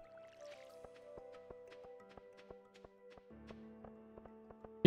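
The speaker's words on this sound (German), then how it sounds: "Ich gieß erstmal" Water drips and splashes from a watering can onto crops in the farming game Stardew Valley, a run of short evenly spaced plinks over soft music tones, fairly quiet.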